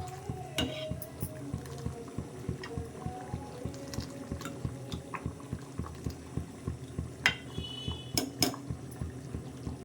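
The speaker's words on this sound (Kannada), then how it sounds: "ನೋಡಿ ಹೀಗೆ ಒಂದು ಐದು ಹತ್ತು ನಿಮಿಷ ಕುದಿಸ್ಕೋಬೇಕು" A pot of sprouted-bean sambar bubbles at a rolling boil, with a regular plopping rhythm, occasional spoon and pot clinks, and a few faint clatters in the background.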